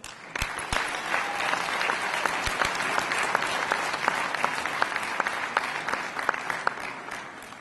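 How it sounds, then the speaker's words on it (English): Parents and guests at a high school senior honors night give sustained, dense applause, a steady wash of many hands clapping with sharper individual claps standing out throughout. "a round of applause"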